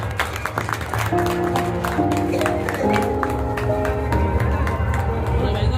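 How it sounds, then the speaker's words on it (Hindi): Audience applause at a photo exhibition event during a local festival, steady clapping throughout under sustained tonal music or chimes, with voices murmuring in the background. "एक बार जोरदार तालियां।"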